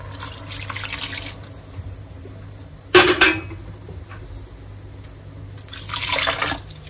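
Water is poured into a pan on an induction hob while cooking vitello tonnato, with wine added just before; splashing and clinking pan sounds, a sharp burst of pouring in the middle, and trickling water at the start and end.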